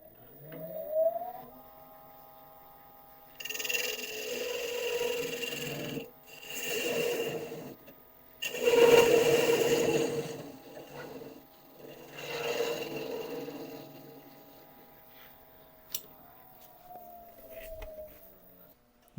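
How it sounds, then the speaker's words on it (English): A skew chisel slicing across spinning wood on a small lathe to square off the end, several bursts of rasping, hissing cuts with pauses between them over a faint steady motor hum. "Now I'm going to take the skew chisel and first of all and just square off this end."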